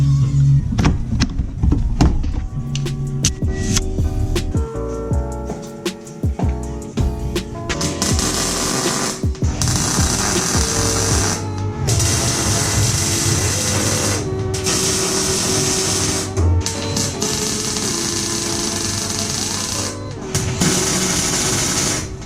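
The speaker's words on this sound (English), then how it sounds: "We'll get the welder out." Steel bars for a car roll over jig being welded, a continuous buzzing crackle broken by short pauses between weld runs, loud and close.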